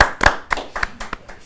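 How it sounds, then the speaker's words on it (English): A handful of sharp, close hand claps welcoming a guest to a recorded studio session, several distinct slaps at an uneven rhythm with no talking. "Rounds of applause for Fred"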